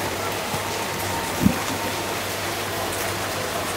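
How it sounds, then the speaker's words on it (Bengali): Heavy rain pouring at night during a downpour after an evening of lightning, a steady dense hiss of falling water heard close, with one brief thump partway through. "ভালো জোরে বৃষ্টি হচ্ছে"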